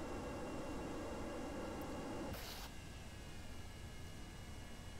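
Spacecraft forward engines in Kerbal Space Program, a loud, steady broadband roar that abruptly shifts to a thinner rushing tone partway through.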